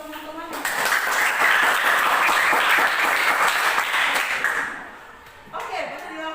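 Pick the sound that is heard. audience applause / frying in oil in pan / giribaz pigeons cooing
audience applause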